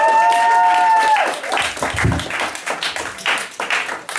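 Audience applause for a spoken word performer at a competition round, starting after a tonal sound fades and swelling into dense clapping with some crowd noise, fairly loud and close, lasting a few seconds.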